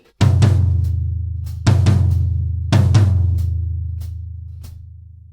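A drum kit plays the first two bars of a Trinity Grade 4 drum piece, with three clusters of strong hits spread across the passage and lighter taps between them, all over a deep, sustained drum resonance that decays between strikes.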